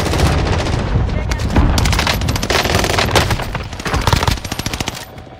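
Call of Duty Warzone gunfire rattles in loud, dense automatic bursts that keep going without a break and end in a string of separate sharp shots, close and harsh.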